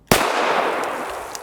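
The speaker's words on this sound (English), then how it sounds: "A little less talking and some more shooting." A single 9mm gunshot fired with Magtech 95-grain JSP ammunition, a sharp loud crack followed by a long, fading outdoor echo, with no talking.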